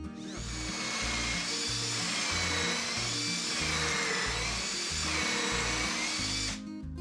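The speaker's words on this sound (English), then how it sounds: "I'm going to clamp it, and I'm going to drill through the center hole here." Drill bit running through a pocket hole jig into clamped wood for a workbench, a steady loud grinding whir with a pulsing low chug, continuous for several seconds up close before cutting off.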